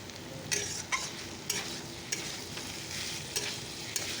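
Spices, onion and garlic paste sizzle quietly in a pan for a taro curry while a utensil stirs and scrapes at intervals, soft and close, with no talking.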